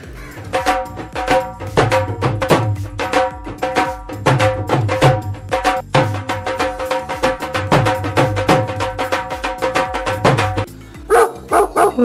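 A dog barks rapidly and loudly nearby in a long, continuous string of sharp barks, with a brief pause near the end before a few more calls.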